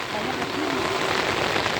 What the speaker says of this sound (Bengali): দেখছেন বৃষ্টি আল্লাহ বৃষ্টি দৃশ্যটা দেখতে অসাধারণ